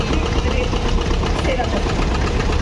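A 1959 Štajer tractor engine idles at a farm festival with a steady, close, low-pitched mechanical chug, while a man announces over it.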